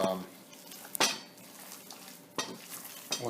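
Ground beef, egg and rice are stirred together in a bowl with a utensil, giving short wet squelching scrapes in a few separate bursts, close up and fairly quiet.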